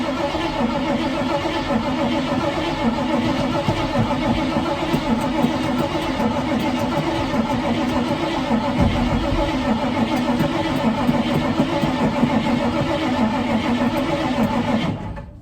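A 1981 Ford truck engine with an electric fuel pump cranking over and over without catching, a loud continuous churning drone running for the full stretch with no talk.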